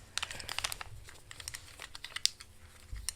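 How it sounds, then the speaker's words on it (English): Plastic packaging from a Temu haul crinkles and crackles as it is opened by hand, a close, busy run of sharp rustles and snaps with no pause. "sorry for the crinkling"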